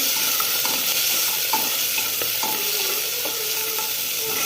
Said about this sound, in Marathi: आता हे टाकणार आहे आपण बिया, वटाणा आणि राजमा. तर थोडं असं हलवून घेऊया.